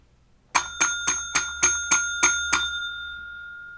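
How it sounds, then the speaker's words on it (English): Railway signal box bell rung eight times for withdrawing a shunt, eight sharp, evenly spaced metallic dings that ring on briefly after the last stroke, close and clear with no talk. "we can withdraw the shunt, and we do that with 8 bells"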